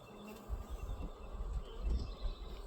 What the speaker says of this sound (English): There's a lot more bees on this frame